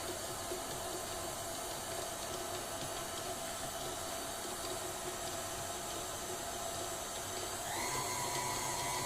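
An electric mixer runs steadily as oil is poured into a fluffy mix of butter and icing sugar, a continuous whirring hiss that rises slightly in pitch near the end as the speed changes.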